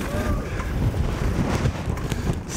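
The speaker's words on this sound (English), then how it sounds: "So windy." Strong wind buffets the microphone with a low, rushing roar that stays constant throughout, no voices heard, during a downhill ride on a chopper bike.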